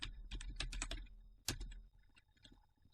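A computer keyboard is typed on nearby in a quick run of soft clicks, then a short pause and a few scattered keystrokes, quiet and alone.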